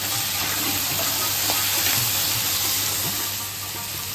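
Spice paste of turmeric, cumin paste, chilli powder, tomato and salt sizzles and fries steadily in a pan, a constant hissing crackle with faint stirring scrapes and no voices.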